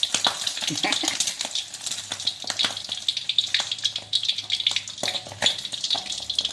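A fried egg crackles and spits loudly in a hot pan, a dense close sizzle with sharp popping bursts and occasional scraping throughout.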